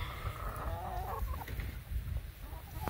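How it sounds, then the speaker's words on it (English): Hens in a henhouse, with soft clucking and murmuring chatter over a low rumbling background, fairly faint and continuous, no talking. "And here's all the chickies. They all think I've got a treat for them."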